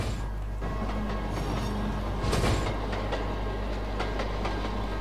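A train runs in the Trainz railway simulator, a steady low rumble with rhythmic clicks and a brief louder clatter near the middle, no talking.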